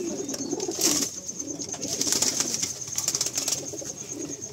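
A black-and-white female tournament pigeon coos in soft, repeated throaty phrases close by, with a faint bird call and brief wing flutter mixed in.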